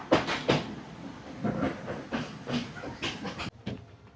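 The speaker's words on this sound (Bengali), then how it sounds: "ট্রেনটা একবার এইদিকে দুলছে, একবার ওইদিকে দুলছে, কি আওয়াজ ট্রেনের মধ্যে।" Inside a rocking passenger train in Sri Lanka, a low rumble with a steady run of clacks and knocks from the carriage, faint and close, with no voices.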